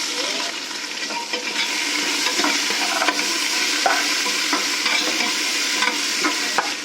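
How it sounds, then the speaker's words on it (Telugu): Onion, green chillies and curry leaves fry in hot oil for a vegetable biryani, a loud continuous sizzle broken by frequent close scraping stirs. "ఆనియన్ బాగా ఫ్రై అవ్వాలి."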